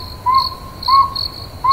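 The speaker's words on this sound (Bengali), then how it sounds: "ঝিঝি পোকাগুলোরও যেন আজ অনেক দিন পরে ডাকার সুযোগ হয়েছে, তাই তারস্বরে ডেকে চলেছে তারা।" Crickets chirp loudly at night, the setting dark and eerie: bright, high-pitched pulsed trills repeat in a steady rhythm, close and prominent over a low background hum, with no voices.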